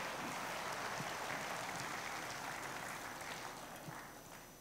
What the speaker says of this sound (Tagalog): Palakpak ang ningoyon, ana.